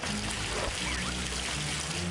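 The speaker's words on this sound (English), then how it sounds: "Here comes the water" Rising water in the Psychonauts game, a steady broadband rush of pouring, streaming water that runs loud and continuous throughout, layered with low game music.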